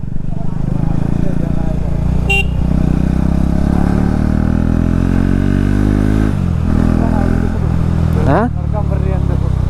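A motorcycle engine hums steadily and close on a crowded road near Yana in Karnataka, with a brief rising rev near the end and voices talking over the traffic.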